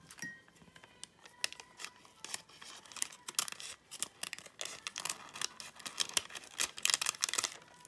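Scissors cutting fabric pieces for a peacock fabric collage, a quiet run of crisp snips and rustles at an uneven pace, close up with no talking.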